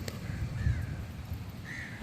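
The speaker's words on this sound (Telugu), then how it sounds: "కాకి, గోకర్ణలో కాకి" A crow caws a couple of times in the open air at Gokarna on the coast, moderately close but fairly quiet over a soft background hiss.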